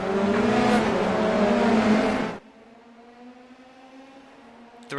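F3 race cars rev on the grid at a race start in iRacing at Fuji, a loud layered engine drone with rising harmonics that cuts off abruptly midway, leaving a quieter lingering engine hum, with a short burst at the end.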